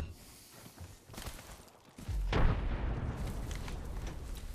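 A grenade blast in a first-person shooter game: a sudden loud boom around the two-second mark that rolls into a sustained rumbling roar, following some quieter in-game clatter, with no talk over it.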